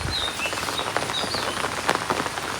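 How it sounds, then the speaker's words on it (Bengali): Light rain begins to fall outdoors, a soft steady patter with scattered drops striking nearby, and faint bird chirps in the background. "বৃষ্টি পড়তে যাচ্ছে, টিপটি পানি বৃষ্টি"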